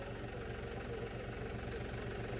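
Diesel tractor engine idling just after starting, a steady low rumble with a regular knocking throb, close and constant with no voices.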